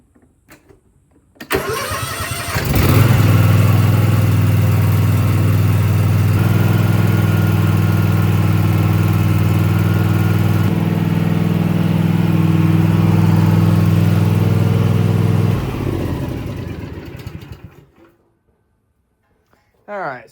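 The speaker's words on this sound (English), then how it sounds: "So we'll go ahead and start the engine." A Kawasaki zero turn mower engine cranks, catches and settles into a loud, steady idle close by, running for about fifteen seconds before shutting down and falling quiet.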